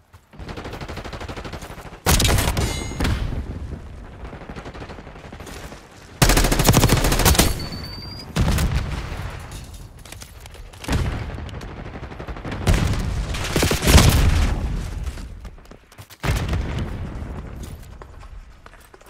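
Call of Duty: Black Ops 6 combat with loud automatic gunfire in repeated bursts and heavy booming blasts, including a frag grenade explosion, dense and continuous throughout.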